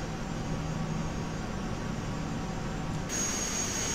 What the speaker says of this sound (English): that sounds like the engines are properly fired up now, seeing as we've got no kind of firing up sounds and they're just level